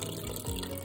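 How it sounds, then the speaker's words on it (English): Water pours from the open end of a cut pipe into a small bucket during a plumbing job adding valves, a brief continuous splashing flow heard up close with no talking. "there's water coming out, which of course I have a little bucket here so I can catch it"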